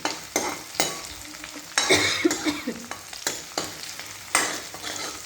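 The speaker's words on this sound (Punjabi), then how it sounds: "ਹੁਣ ਆਪਾਂ ਇਹਨਾਂ ਨੂੰ ਹਰੀਆਂ ਮਿਰਚਾਂ ਨੂੰ ਥੋੜਾ ਟਾਈਮ ਭੁੱਜਣ ਲਵਾਂਗੇ" Green chillies and chopped onions fry in a pan while being prepared for besan bhurji, a steady close sizzle broken by repeated scraping stirs every second or so.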